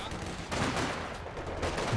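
Machine gun fire rattles in dense rapid bursts during a 2v2 match of the strategy game Company of Heroes 2, with battle noise layered over the steady crackle of shots.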